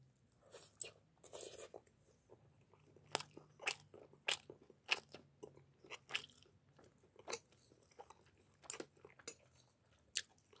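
Close, crisp crunches and bites from chewing Cro-edge pizza crust, arriving in irregular bursts with quiet gaps between them and no talk.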